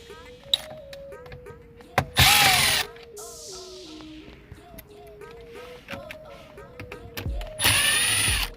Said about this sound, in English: Next thing we want to do is take out these screws.